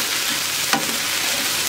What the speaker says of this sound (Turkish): Tavuğu yeterince kavurdum artık.